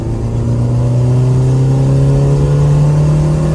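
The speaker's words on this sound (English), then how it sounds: "We're gonna accelerate, give it a little gas just to see how it works." A 1991 Honda Accord engine fitted with NGK spark plugs revs up under acceleration, a loud steady drone whose pitch climbs gently throughout, with no talking.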